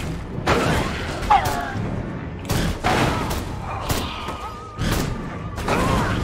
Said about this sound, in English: I just keep exploding the explosives